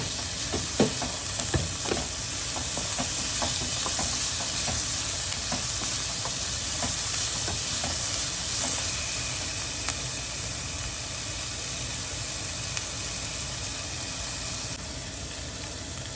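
Tempering sizzling in a pan with salt, a dense continuous hiss of hot oil with frequent small pops and stirring clicks, close and steady throughout with no one speaking.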